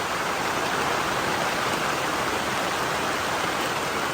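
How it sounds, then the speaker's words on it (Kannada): Heavy rain pours steadily, a dense, even hiss of falling water with no pauses or voices. "ಬಂತು ನೋಡಿ ಮಳೆ"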